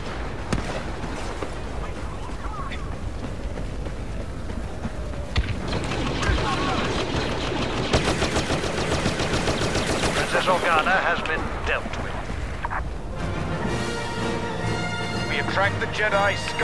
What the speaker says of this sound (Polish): Dobra, strzelam w niego teraz, jak jest odwrócony.